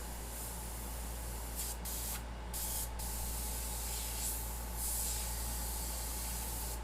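An airbrush sprays custom paint in a steady, close hiss, with short pauses and bursts as the trigger is released and pressed again.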